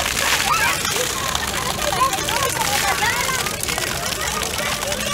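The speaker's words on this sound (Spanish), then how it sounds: "estoy dentro de una cascada" Water spilling down a fountain cascade in an urban park fills the scene with a steady, loud wash of splashing, with faint crowd voices mixed underneath.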